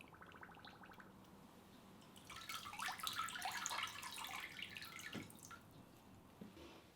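A cast slab and the remainder of a bandage roll are immersed in a basin of water, giving faint dripping and a brief burst of splashing and bubbling in a quiet room.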